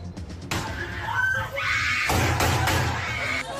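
Students scream in terror during a school shooting in Parkland, a dense, sustained wall of panicked shrieks and cries with thuds and bangs, captured as raw news footage.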